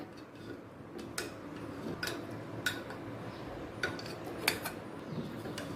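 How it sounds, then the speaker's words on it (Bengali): Boiled potatoes are mashed against the side of a pressure cooker for a sweet-shop-style aloo tarkari, producing sharp metallic taps and scrapes at irregular intervals over a faint background hiss. "কুকারের গায়েতেই ম্যাশ করে নেব তার সাথে আরও দুটো তিনটে আলুকেও একই সাথে ম্যাশ করে নিচ্ছি"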